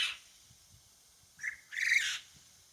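A pet quail chirps outdoors in a garden, two short bright calls in quick succession, moderately near against a quiet background.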